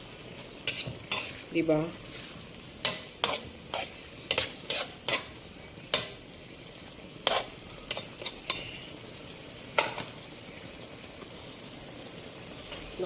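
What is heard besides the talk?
chicken being stir-fried in a pan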